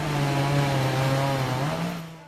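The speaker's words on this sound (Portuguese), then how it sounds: "estava na hora de começar a roncar o motosserra." A chainsaw runs at a steady high idle, a loud close buzzing drone that holds for a couple of seconds and then fades slightly, heard alone with no talking.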